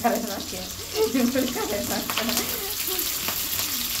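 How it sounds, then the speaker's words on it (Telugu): Green chillies, curry leaves and onion hit hot oil already holding cumin and mustard seeds for a bitter gourd curry, bursting into a loud close sizzle that settles into steady frying while a person talks over it. "ఇప్పుడు పచ్చిమిర్చి, కరివేపాకు, ఆనియన్ వేసామండి"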